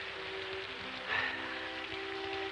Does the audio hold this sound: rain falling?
yes